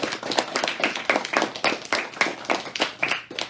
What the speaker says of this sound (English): let's give your parents a round of applause for the hard work and support they've shown the school